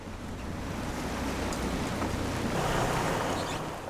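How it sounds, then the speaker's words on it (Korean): Rough winter sea waves surge and crash in strong wind around a fishing boat off Geomundo island, a loud continuous roar of surf and wind noise with no speech. "갑자기 이렇게 파도가 쳐요?"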